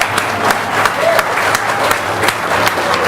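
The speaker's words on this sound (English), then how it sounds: "I'd also like a round of applause for our two candidates" Audience applause for two candidates at the close of a 2023 electorate debate in Tāmaki, a steady wash of clapping hands filling the room, fairly close and sustained throughout.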